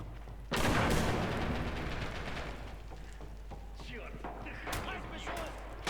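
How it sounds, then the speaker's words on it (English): A hand grenade detonation and gunfire in a Red Orchestra 2 match between EU and Russian teams: one loud blast at the start that rings out and fades into a rumble, followed by scattered sharp shots, with someone talking over it. "And we got hand grenades going in."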